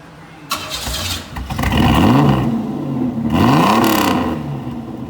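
A car with a 2.8 liter V6 and a straight pipe exhaust starts up and revs twice, loud and near, each rev rising and falling as a raspy rising whine over a steady rumble.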